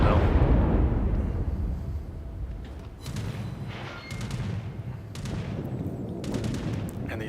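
Main battery shells from the Tier 8 Kriegsmarine battleship Tirpitz in World of Warships, several heavy booming salvos with rumbling decay, the loud opening blast followed by spaced sharp reports and rolling gunfire.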